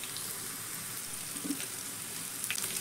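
Semolina snacks frying in hot oil, giving a steady, soft bubbling sizzle throughout with a few slightly louder crackles, no talking.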